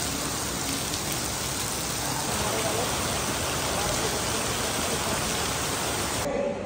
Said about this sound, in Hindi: बारिश जैसे रुकेगी भाई उसके बाद हम यहां से निकलेंगे, अभी बरसात ज़्यादा शुरू होगी तो वेटिंग रूम में बैठे हैं